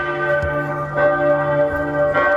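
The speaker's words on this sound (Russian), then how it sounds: "Услышали ребята и колокол мира" A peace bell rings at a school memorial ceremony. Several resonant strokes sound close and loud, each leaving a long, sustained ringing tone between the strikes.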